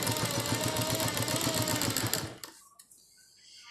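A sewing machine runs in a fast, steady stitching whir close by for about two and a half seconds, then stops abruptly, leaving a few faint clicks and handling sounds.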